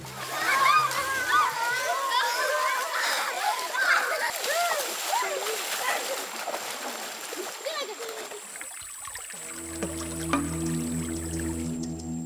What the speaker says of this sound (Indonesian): Mandi dengan air kecoklatan tanpa peralatan mandi adalah satu-satunya cara bagi mereka untuk bersih-bersih setiap harinya.